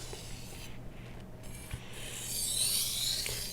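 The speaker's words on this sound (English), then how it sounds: "We're pressing the blade into the stone." Knife blade pressed and rubbed across a whetstone with a wet slurry, soft gritty scraping strokes heard close and quiet, with one firmer stroke near the end.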